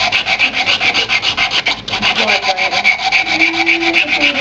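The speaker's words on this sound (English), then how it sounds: "Sand it a bit at a time" Steady back-and-forth sanding on wood, widening the slot of a halving joint a little at a time; close, loud rhythmic rubbing strokes at a regular pace, continuing throughout with a brief pause near the middle and no voices.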